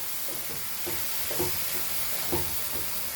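Cooked dal goes into a sizzling tomato-onion tadka in a pan over high flame, with a steady fry hiss broken by several soft stirring scrapes and splashes, no talk.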